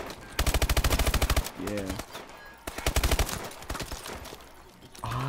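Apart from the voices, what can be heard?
gunfire from the video game Call of Duty Advanced Warfare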